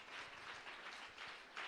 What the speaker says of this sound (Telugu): కొట్టు చప్పట్లు గట్టి కొట్టు.